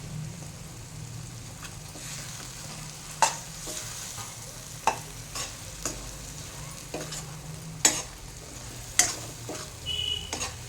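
Bitter gourd fries in a masala in a pan, with a soft continuous sizzle and periodic scraping clinks of a spoon stirring at irregular intervals; no voices.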